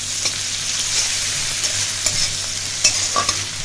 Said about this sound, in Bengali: আমি পেঁয়াজটা একটু ভেজে নেব